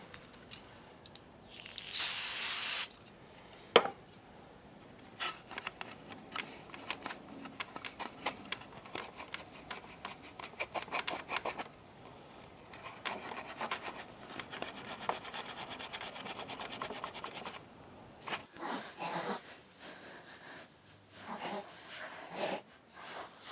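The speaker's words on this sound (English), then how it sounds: "we're just going to sand all up around there" Hand sanding with a sanding pad around a leak on an inflatable hot tub, quiet scratchy rubbing strokes in uneven bursts with short pauses, close by, with some speech mixed in.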